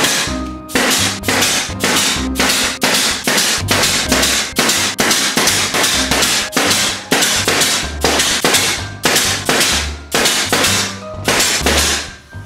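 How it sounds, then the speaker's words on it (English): Nails are driven through a plywood top panel with 1¼-inch nails, a steady run of about twenty sharp, loud nail-gun or hammer strikes in quick succession, with brief gaps between groups. "the top panel can be glued and nailed on. I'm using 1¼-inch nails for this."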